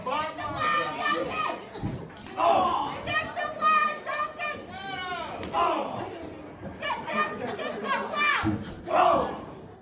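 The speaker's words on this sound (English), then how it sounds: "Crowd asking for the bat." A wrestling crowd at a PCW show chants and shouts for a bat, mixed excited voices rising in repeated swells, loud and close throughout.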